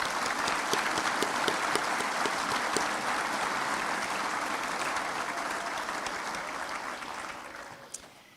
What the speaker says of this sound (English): can you now join me in a round of applause to acknowledge all those who supported you?